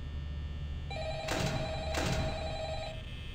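In the Five Nights at Freddy's game on PS4, a phone rings twice with bright bursts over a steady electronic tone and low background hum, with no voices.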